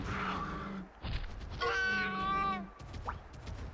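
A cat character meows in the Monster Hunter Stories video game, with a few drawn-out, tonal mews in quick succession, clear and close with no talk over them.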